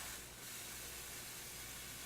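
A steady, soft hiss of steam from a steam iron sprays continuously for a couple of seconds, faint and close, with no other sounds.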